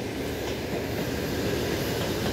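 An EP2D electric commuter train runs along the rails on a line west of Moscow, heard as a steady loud rumble and rail roar from on board or close by, continuous and without talk.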